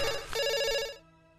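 A telephone ringtone sounds loudly for about a second: a steady, bright electronic melodic ring that then cuts off, with no talking over it.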